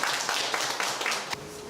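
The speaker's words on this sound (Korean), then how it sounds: "힘찬 박수 부탁드립니다." Audience applause for a lecturer being welcomed on stage at a filial piety academy, a steady crowd patter of many hands clapping throughout, moderately loud and fairly close.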